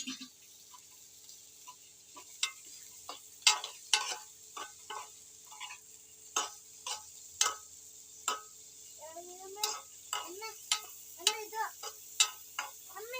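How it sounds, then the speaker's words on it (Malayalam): Tomatoes sautéing in a pan are stirred with a utensil that taps and scrapes in a series of sharp, irregular clicks over a faint sizzle, close and otherwise quiet. "ഇതൊരു തക്കാളി വഴറ്റിയ രൂപത്തിലേക്ക് വരും വേണം. നമുക്കൊന്ന് ഇളക്കിയെടുക്കാം."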